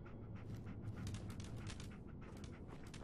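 Rapid, steady panting from a dog in Fallout 4, close and continuous with a faint whimpering edge, over low game ambience and with no talk.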